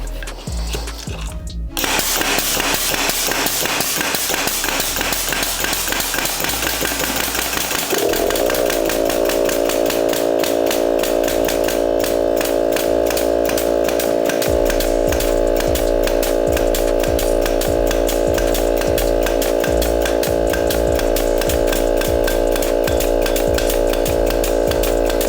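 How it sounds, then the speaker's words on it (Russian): A DeWALT DCC2520B cordless compressor running hard and steadily while a nailer fires rapidly. The motor drone is loud and continuous, the pitch steadies partway through, and the repeated nail shots fall over it. "Теперь переходим в автоматический режим и посмотрим, хватит ли у нас компрессора"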